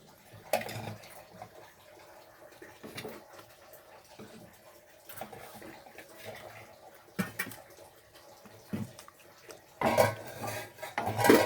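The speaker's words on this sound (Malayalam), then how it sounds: "നന്നായിട്ട് ഇളക്കാം കേട്ടോ." A metal utensil scrapes and clinks against a pot while food is stirred. The sounds come in faint, irregular bursts that grow louder and busier near the end.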